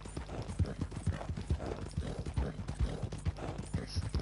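Rhythmic, close hoof thuds of a horse at full gallop in Red Dead Redemption 2, clear and steady with no talking over them.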